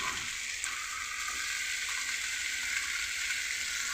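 Ginger, green chili and mustard paste fry with small fish for a green-tomato fish dish, making a steady, even hiss of sizzling oil that carries on close and unbroken throughout.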